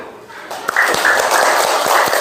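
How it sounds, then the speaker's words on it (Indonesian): A classroom of students applauds a presenting group after a maths presentation, clapping starting up after a brief quiet and continuing steadily, fairly close, with a few voices underneath. "Mari kita tepuk tangan"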